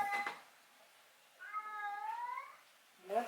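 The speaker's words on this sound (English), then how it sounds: "Was that the cat?" A cat meows several times, a short cry at the start, a longer wavering yowl in the middle, and another brief meow at the end, fairly close.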